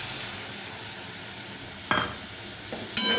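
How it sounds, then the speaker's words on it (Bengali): Spice paste (masala) with a little water sizzles softly in a pan, with a few sharp scraping stirs and clinks near the end, close and fairly quiet. "এখানে মশলা বাটি দিয়ে একটু জল দিয়ে ভালো করে কষিয়ে নিতে হবে।"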